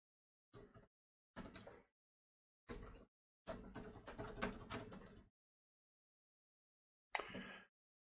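Typing on a computer keyboard, quiet close clicking in short rapid bursts separated by pauses, one longer run in the middle and a final brief flurry.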